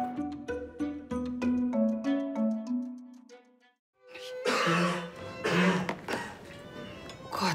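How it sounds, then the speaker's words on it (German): A woman coughs in a harsh, repeated fit of several rough bursts after a brief silence, following a stretch of tonal sound. "sie Armer mit ihrem Husten"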